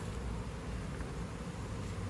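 Dense, steady buzzing of a honey bee swarm held in a bucket, close and continuous with no pauses, and no voices.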